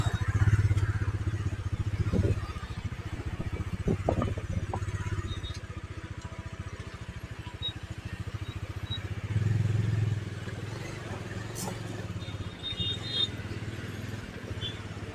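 A motorcycle rides at night on a trip from Mumbai to Raigad Fort, its engine a steady low drone with wind rush and occasional rattles, rising briefly in intensity partway through.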